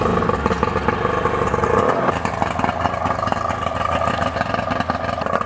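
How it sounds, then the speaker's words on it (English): Motor of a spray applicator for Cyclo Spray Off Salt (SOS), running steadily with a continuous, fairly loud mechanical drone and rattle throughout, no voices. "So we'll start up the motor."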